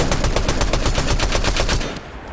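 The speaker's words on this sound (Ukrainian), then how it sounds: "здається, що тут хтось стріляє" Rapid automatic gunfire from the Fortnite video game rattles continuously in a dense, loud, fast rhythm and then thins out and fades near the end.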